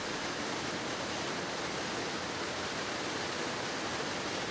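Vermillion Falls waterfall in Minnesota roars in a dense, unbroken rush of falling water, loud and constant throughout with no voices or other sounds.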